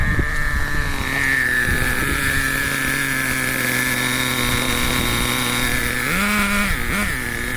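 A PartCore S21 .21 nitro engine runs in a Schumacher Rascal RC car, running too lean, a loud, high-pitched buzzing whine held steady up close, then revving up and down sharply near the end.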